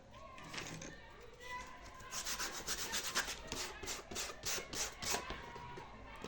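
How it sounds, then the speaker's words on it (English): Sandpaper rubs rhythmically across a shoe heel to roughen its surface, a close, faint, scratchy back-and-forth rasp repeating in quick strokes. "So I'm also going to roughen the surface."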